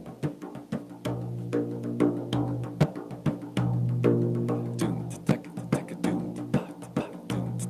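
A Moroccan-style frame drum plays a steady rhythmic pattern of resonant low thumps and crisp slaps, repeating throughout, close and unaccompanied.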